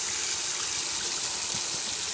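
Hot water running, a steady, close gushing rush from a tap that stays loud and unbroken for the whole short stretch, with no voices.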